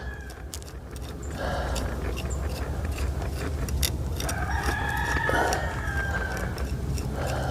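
Roosters crowing outdoors in a backyard, two drawn-out calls a few seconds apart, the second longer and louder, over a constant low background hum.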